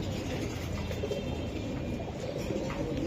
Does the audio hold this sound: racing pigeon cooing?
yes